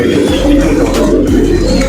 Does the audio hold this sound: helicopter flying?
no